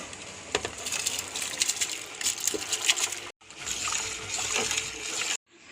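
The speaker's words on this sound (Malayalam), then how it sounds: "അരി കഴുകി വെച്ചതാ അതിലിടുന്നു" Washed rice grains pour and patter into salted water in two close bursts, a rushing, splashy rattle with a brief pause between.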